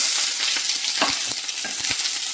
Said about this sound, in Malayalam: ഒരു പിടി മല്ലിയിലയാണ് ഇതിനോടൊപ്പം വറുത്തെടുക്കുന്നത് ഇതെല്ലാം കൂടെ ചൂടായി വന്ന പാനിലേക്ക് ചൂടുക്കുകയാണ്